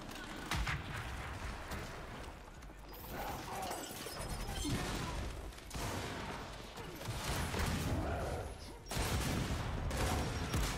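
Gunfire and mechanical weapon sounds from the Gears 5 video game in a ranked Control match, bursts of shots, clanks and crashes in dense, uneven waves at moderate loudness, with a player talking over it.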